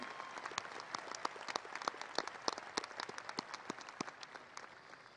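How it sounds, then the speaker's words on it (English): Graduation audience at a high school ceremony giving a round of applause for school leaders, a steady spread of many hands clapping at moderate distance with no talking. "can we give them a huge round of applause for the efforts of these leaders this year?"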